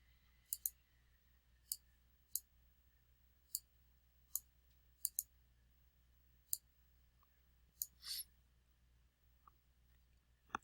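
A computer mouse clicking in a quiet room, a dozen or so sharp, isolated clicks spaced irregularly across the stretch, close and crisp against faint background hum.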